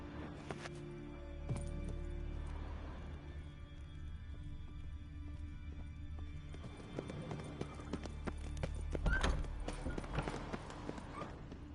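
Hooves clip-clop steadily at a trotting pace in the video game The Witcher 3: Wild Hunt, growing busier and louder toward the end, with a low ambient hum underneath.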